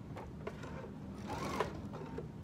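Close, steady whir of a sewing machine topstitching the side seams of a fabric market bag, running continuously with faint handling sounds.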